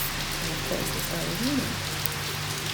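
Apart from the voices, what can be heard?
rain falling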